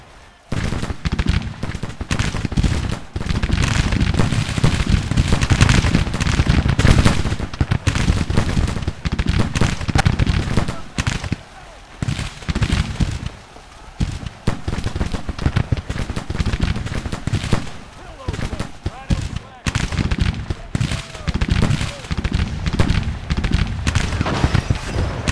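Musket volleys from Civil War infantry in the Grand Tactician strategy game crackle densely and continuously, loud and close, with rapid overlapping shots and brief lulls throughout.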